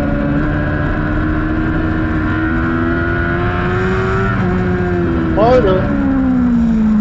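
Superbike racing motorcycles at Grattan in a WERA race scream past steadily at high revs, their engine whine bending in pitch as they pass, under continuous excited race commentary.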